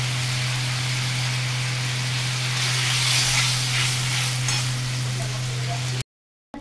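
Fried pointed gourd pieces go into a pan of soaked Gobindobhog rice cooking with water, and a loud, steady close sizzle and hiss runs for several seconds under a constant low hum before it cuts off abruptly.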